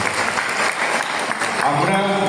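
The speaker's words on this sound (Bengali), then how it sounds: "বিধায়কের জন্য একটা হাততালি দিয়ে তাকে অভিনন্দন জানানো" Crowd applause for a legislator at a public library seminar and workshop, a steady dense clatter of many hands clapping throughout, with some voices mixed in.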